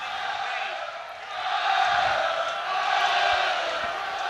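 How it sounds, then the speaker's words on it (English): Rugby crowd at a Connacht home match roaring their team on, a broad sustained wall of cheering that swells midway and stays loud, with a commentator talking over it. "And the Connacht crowd roaring their team on here."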